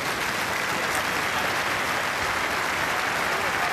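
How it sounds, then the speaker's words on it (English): Stadium crowd at an AFL match between Fremantle and St Kilda applauding an injured player, steady dense clapping and cheering throughout, loud and continuous with no pauses. "Some applause for Sam Gilbert"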